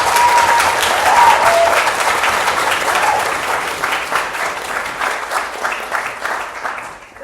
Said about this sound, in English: one more round of applause for the debate